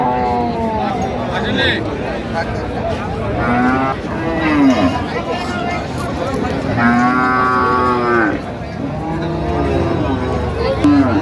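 Cows with calves at the Raniganj cattle market low with repeated drawn-out moos, close by, over a steady murmur of people talking.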